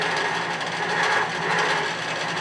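A sewing machine stitches dense free-motion fill on a quilt, a steady close mechanical whir with fast even clicking that runs without a break.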